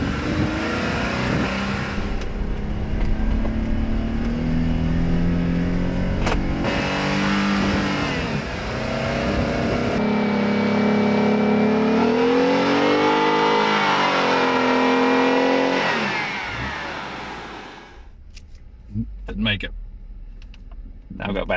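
An off-road vehicle strains up a steep, tough trail hill climb, its engine revving loud and rising in pitch, then easing off and fading toward the end, with a person talking over it.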